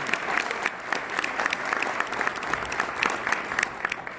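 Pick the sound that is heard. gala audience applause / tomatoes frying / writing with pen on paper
gala audience applause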